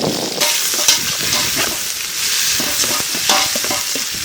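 Onions and green chillies fry loudly in sunflower oil for a gut-stuffed chicken biryani, a dense continuous sizzle close up with a spoon scraping and stirring through it, no voices.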